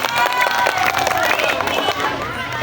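Audience at an Isra Mi'raj gathering clapping and cheering steadily throughout, a dense crowd of hands with voices mixed in.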